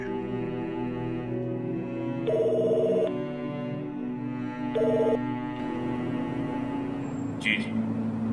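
A telephone rings indoors in a drama scene, two short electronic bursts separated by quiet background tones, with a brief high chime near the end.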